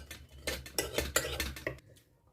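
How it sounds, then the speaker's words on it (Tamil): Boiled carrot and green peas mashed in a pan or bowl, a close series of soft clinks and scraping thuds from the utensil against metal in an irregular rhythm. "முதல்ல இந்த கேரட்டையும் பச்சை பட்டாணியும் நல்லா மசிச்சுடலாம்."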